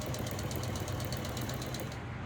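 A home sewing machine with automatic bobbin rewind runs steadily, a fast continuous mechanical whir with a rhythmic low stitching pulse, close and even throughout.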